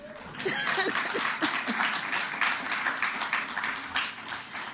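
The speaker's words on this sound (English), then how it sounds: "Yes, you can clap." An audience at a post-Cabinet press briefing breaks into steady, moderately loud applause that rises quickly after a few words of speech and carries on evenly to the end.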